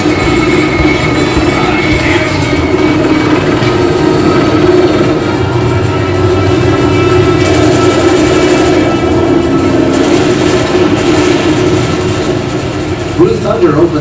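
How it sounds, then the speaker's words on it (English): Helicopter flying at street level through downtown Los Angeles in a film chase scene, a loud, constant droning rotor and engine roar with steady mechanical hum, mixed under other soundtrack noise throughout. "a helicopter chase at street level"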